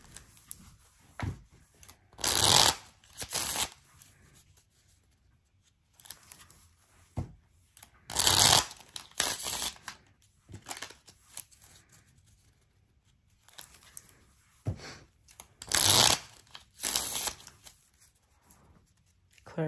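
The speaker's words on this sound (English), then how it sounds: "Let me shuffle these real quick" A deck of tarot cards being shuffled by hand, close riffling bursts in three main rounds separated by quieter pauses and light handling sounds.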